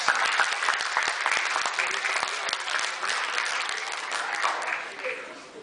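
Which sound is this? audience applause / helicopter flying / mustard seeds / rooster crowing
audience applause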